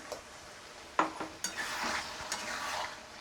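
Soybean and potato masala stirred and fried in a pan with a little water, giving a few sharp scraping strokes and knocks over a low sizzle.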